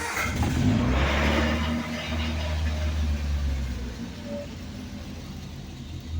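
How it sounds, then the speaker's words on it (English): A 1970s Triumph Spitfire that has sat for a couple of days cranks and starts up close by, then revs roughly before settling into a steady running rumble. "Fire it up here. It's been sitting a couple days."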